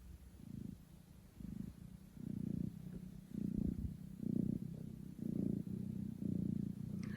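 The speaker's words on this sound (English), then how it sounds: "so I have Purring Kitten." A kitten purring close and soft in a quiet room, a low rhythmic rumble pulsing with each breath, about ten even cycles with no talking.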